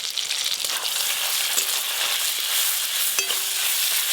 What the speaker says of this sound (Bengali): টুল মাছ রান্নার জন্য এই যে প্রথমে কড়াতে দিয়ে দেবো পেঁয়াজ কুচি, টমেটো কুচি, আদা রসুন বাটা, কয়েকটা চেরা কাঁচা লঙ্কাও দিয়ে দেবো